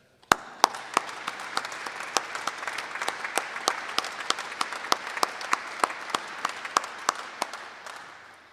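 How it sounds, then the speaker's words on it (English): An audience applauds honored soldiers at a welcome home ceremony for an assault helicopter battalion company: a large crowd claps in a sustained, fairly distant wash, with a few sharp, louder individual claps standing out in an uneven rhythm. "Please join me in another round of applause for our honored soldiers"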